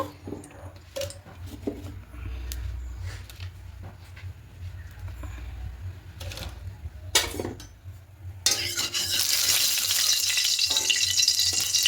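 A little white oil heating and frying in a pan for a paneer curry, a soft continuous sizzle with scattered light clinks of utensils, then a much louder, brighter hiss bursting up near the end.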